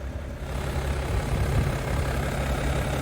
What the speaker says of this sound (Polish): Silnik pracuje rewelacyjnie, nie wiem tutaj jak to brzmi na nagraniu